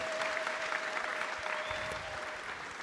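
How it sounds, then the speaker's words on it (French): A church congregation claps steadily together in a dense, continuous wash of applause that stays even in loudness throughout. "Applaudis très bien le Seigneur des Seigneurs"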